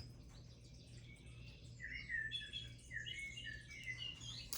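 Birds chirp and tweet in a quiet outdoor setting, several bright calls overlapping from about two seconds on, moderately near, over a low steady hum.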